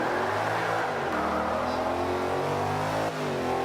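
A Ford GT500 engine in Forza 5 drives hard through changing revs, rising and falling as it accelerates and shifts, loud and close with no one talking.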